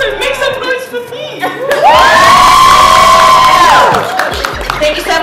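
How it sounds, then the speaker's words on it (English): A large crowd at an Easter event cheers, whoops and shouts in a loud, sustained roar that swells and holds for a couple of seconds, with excited children's voices mixed into the din. "make some noise for me"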